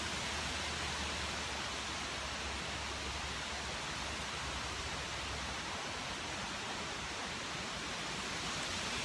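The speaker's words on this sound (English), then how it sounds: "can you hear that wind? Some of these trees are just gonna fall over." Strong storm wind roaring through trees at a metal-detecting site, a loud, steady broadband rush with no letup across the whole stretch, plus a low buffeting rumble in the first part and no voices.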